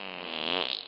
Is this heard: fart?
yes